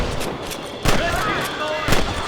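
Gunshots in the video game Red Dead Redemption: two sharp reports about a second apart, loud and close, over a busy background of game noise.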